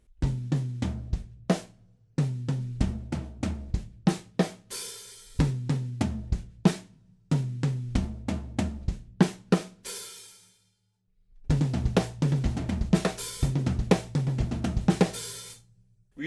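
Rock drum kit playing a slightly altered groove from a song, with punchy kick and snare hits, crashing cymbals and brief pauses between phrases, loud and close with no talking.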